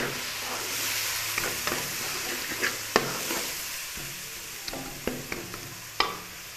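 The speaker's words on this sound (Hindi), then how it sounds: "ये सारी चीज़ें इसमें मैं शामिल कर दूँगी और इनको अच्छे से चला लूँगी" Tomatoes, spices and coriander sizzle in a frying pan as a masala for cabbage sabzi, with a steady close frying hiss and occasional sharp scrapes and knocks of a spoon stirring, no voices.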